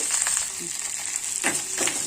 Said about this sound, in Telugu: బాగా వేపుకోవాలండి